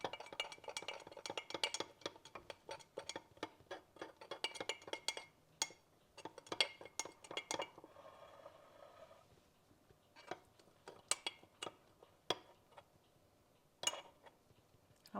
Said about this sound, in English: Show you what this looks like as I'm stirring it.